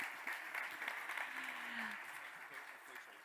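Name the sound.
audience applause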